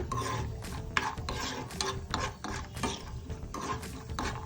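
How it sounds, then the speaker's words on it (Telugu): Cashews and almonds being dry-roasted in a pan, with a steady rasping, scraping stir of nuts and spatula against metal and repeated sweeping strokes, close and fairly loud, with no talking. "ఇక్కడ నేను జీడిపప్పు బాదం పప్పు వేసుకుని వేయించుకుంటున్నానండి"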